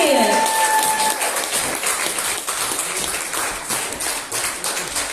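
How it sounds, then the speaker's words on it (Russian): A village house of culture audience at a season-closing concert breaks into sustained, dense applause. A voice speaks briefly at the start before the clapping carries on steadily. "Ваши бурные аплодисменты!"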